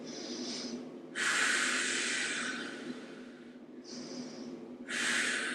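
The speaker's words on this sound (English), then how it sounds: "Bigger, deeper breaths." During a slow Pilates flow on a mat, a person takes deep breaths. Long, close inhales and exhales alternate steadily, with no talking.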